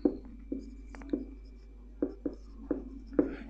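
Pen strokes writing out a math problem on paper, a series of short scratchy taps and scrapes in an irregular rhythm, close and fairly quiet, with no talking.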